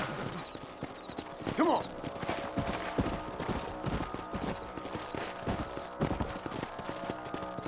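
Horses trot in Red Dead Redemption, a steady clip-clop of hooves on open ground with a brief whinny early on and low game ambience, while someone speaks briefly.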